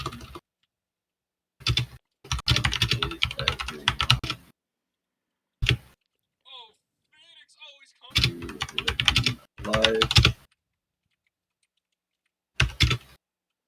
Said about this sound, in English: I enjoy the clicky clacky noises of the keyboard.